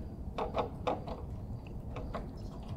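Ratchet clicks from an 8mm socket loosening a bolt on a John Deere E120 lawn tractor, sounding as short bursts of mechanical clicking in a couple of clusters over a low background rumble.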